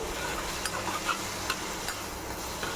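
Raw banana and tomato sautéing in a pan give off a steady, even sizzle with soft stirring scrapes and a few light clicks from the utensil, with no one speaking.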